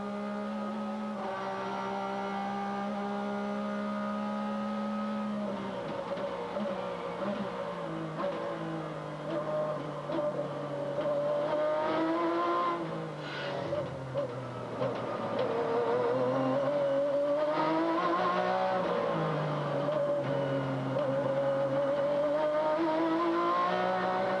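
Onboard a Mustang GTS race car lapping Mid-Ohio in the 2003 Grand American Rolex Sports Car Series, the engine drones loudly and continuously, its revs climbing and dropping through gear changes and corners.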